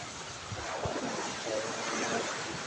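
Steady wash of surf and wind on a beach, a continuous soft roar of breaking waves with gusty microphone noise.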